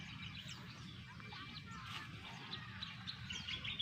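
Three chickens released into a backyard farm give off a busy mix of clucks and squawks, with other fowl calling around them, at a fairly steady level and with no talking.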